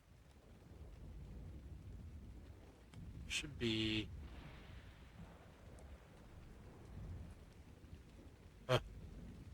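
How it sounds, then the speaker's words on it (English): Rain on the Valguero map of a video game makes a steady hiss under low thunder rumbles, with a couple of brief sharp cracks and a voice speaking a few words. "the rain on this map. I've been playing the center, and you know how the center is with rain. It's so loud."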